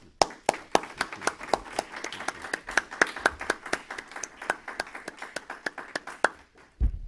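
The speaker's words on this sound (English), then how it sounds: "I think they have earned a round of applause." Sparse applause from a small audience at an academic history lecture, distinct individual claps in a loose, uneven rhythm, close and moderately loud, ending with a thump.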